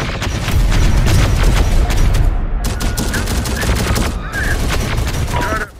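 Gunfire in the video game Terminator: Dark Fate Defiance comes as dense bursts of rapid automatic shots and booms, loud and close, with brief lulls between volleys.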